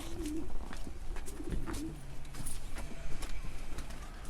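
Elvan pigeons coo softly and repeatedly, close by, amid scattered clicks, flutters and rustling.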